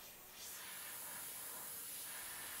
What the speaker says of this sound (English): I'm also using a bit of freehand airbrushing